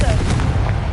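Confringo explosive spell cast in Hogwarts Legacy, a loud, dense burst of booming, crackling blast noise that fills the whole second.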